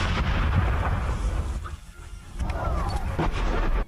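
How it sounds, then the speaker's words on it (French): Distant artillery fire rumbling over noisy outdoor background, with a deep boom and rolling low-frequency reverberation, briefly dipping before the din returns. "ça c'était un bruit d'artillerie."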